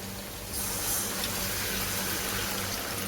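Water pouring into a pot of rice for chicken roast pulao, a steady broadband gushing rush that swells after the first half-second and holds evenly, with no talking.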